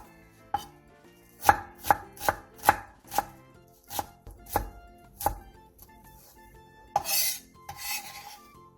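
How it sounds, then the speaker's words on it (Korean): A knife chops half an onion finely on a board: about a dozen crisp, evenly spaced thuds at close range, followed by a couple of brief scraping sweeps. "양파 2분의 1개에 화면처럼 칼집을 넣은 뒤 잘게 잘라주세요."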